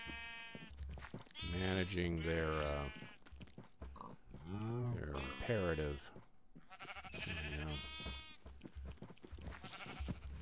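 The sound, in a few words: sheep bleating in a video game barn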